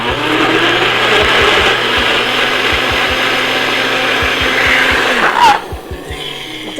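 A Magic Bullet blender whirs loudly and steadily as it purées ingredients for a Mexican picadillo rojo, then cuts off near the end, leaving a quieter rattle.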